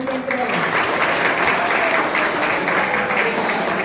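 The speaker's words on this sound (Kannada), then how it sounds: "ಇನ್ನೊಂದು ಬಾರಿ ಜೋರ ಚಪ್ಪಾಳೆ" An audience at a ceremony honouring soldiers and farmers bursts into sustained, dense applause, loud and close, with a steady wash of many hands clapping throughout the short stretch.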